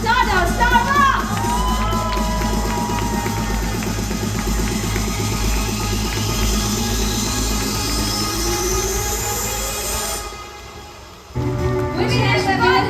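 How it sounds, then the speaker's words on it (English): Crowd at a coffee championship event shouts and cheers loudly, a sustained roar of whoops and yells that holds for several seconds, then drops off briefly and resumes. "Make the loudest noise. 3, 2, 1, say woo!"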